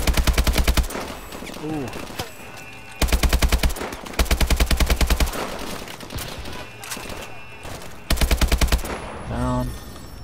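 Rapid bursts of automatic AK rifle fire with a red dot sight in the video game Call of Duty: Advanced Warfare, loud and repeated in several volleys separated by brief pauses, with a voice briefly exclaiming.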